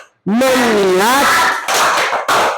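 Students in a classroom chant loudly together, then break into the rhythmic claps of the 'tepuk fokus' focus routine, close and energetic.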